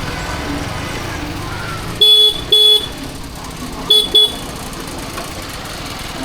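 Busy main-highway traffic rolls past in a steady roar while car horns blare in two pairs of short, loud honks close by.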